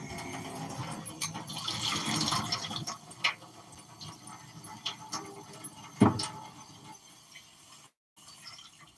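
A kitchen tap runs water while wings are being prepared for cooking, giving a faint, uneven stream with a few clinks and knocks of dishes, then a brief cut to silence before the sound resumes.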